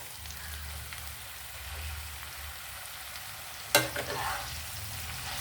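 Ridge gourd and fresh gongura leaves fry quietly in a pan for a chutney, a soft steady sizzle interrupted by one sharp clatter and a brief burst of louder crackling as leaves drop in.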